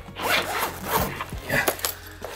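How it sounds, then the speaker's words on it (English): Zipper being drawn along a small-dog travel carrier bag, a series of quick close raspy zips with short pauses between pulls, no talking. "Also has this overhead zipper so he can stick the head out."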